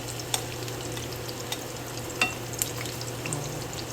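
Sweet potato for kamote cue fries in hot oil, a steady bubbling sizzle with a few sharp pops and crackles scattered throughout.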